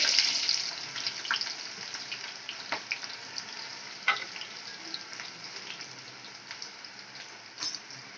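Onions and whole spices, cloves, cardamom and black pepper, fry in hot oil with a dense, crackling sizzle that starts loud and gradually settles, with occasional spatula clicks against the pan.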